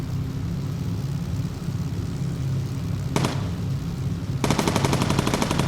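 Machine gun fire from a bomber turret in the video game Bomber Crew, heard as two rapid rattling bursts over a steady engine drone, the second burst longer and continuing to the end.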